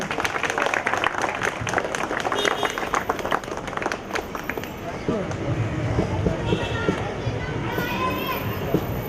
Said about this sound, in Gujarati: એકવાર જોરદાર તાળીઓથી મિત્રો વધાવી લેજો